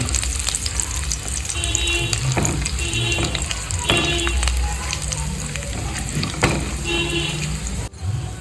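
Carrots shallow frying in ghee in a pan, a continuous close sizzle with periodic stirring scrapes and clatters over it, steady and fairly loud, no talk.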